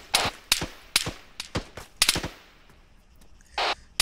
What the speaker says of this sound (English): Shots sound like they're coming from the south.